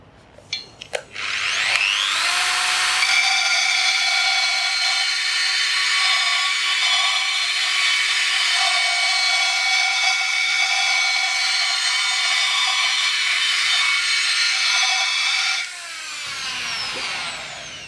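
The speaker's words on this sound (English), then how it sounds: "We also have a special range of burrs for inox, which are ideal for use on stainless steel." Carbide burr for inox on a power tool grinding stainless steel: a loud, steady, high-pitched whine holding evenly for about thirteen seconds after a brief start, then tapering off as the tool winds down.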